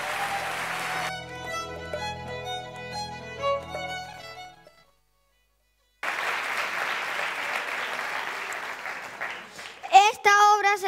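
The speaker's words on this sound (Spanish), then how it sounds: "Si han quedado complacidos, no duden en aplaudir." Audience applause after a theatre play, a dense burst of clapping under music, then a brief silence, then a second round of clapping with a voice speaking at the end.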